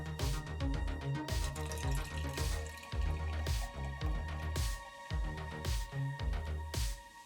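Caffeinated white Hoplark hop tea is poured from a can into a glass, a close, quiet run of repeated gurgling glugs and dripping splashes in an irregular rhythm, with no speech.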